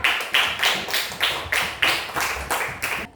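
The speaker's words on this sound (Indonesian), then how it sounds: "beri tepuk tangan untuk teman kita" Students in an Islamic studies class clap for a classmate in a slow, synchronized rhythm, about ten sharp, even claps close by, with no voices over them.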